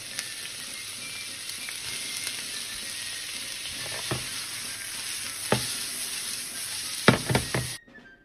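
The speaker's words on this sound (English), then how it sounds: "So we start with frying our onions." Onions sizzle steadily in a hot pan with a constant bright crackle, punctuated by a few sharp clinks and scrapes near the end.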